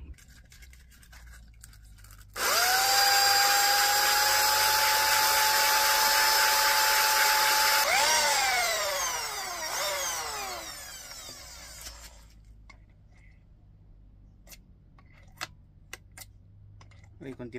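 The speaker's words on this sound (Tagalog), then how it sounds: "lilihain ko gamit tong drill, kasi matibay na ano to eh, na aluminum, hardened no, na aluminum" An electric drill grinds down a hardened aluminum slave clutch cylinder from a Toyota Corolla clutch conversion, a loud high whine that starts abruptly, holds steady, dips in pitch under load a few times, then cuts off.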